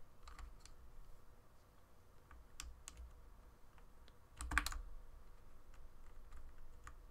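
A computer keyboard is clicked and tapped while a flung-off key is put back in place, making scattered quiet key clicks with pauses and one sharper, louder snap midway, close by in a quiet room.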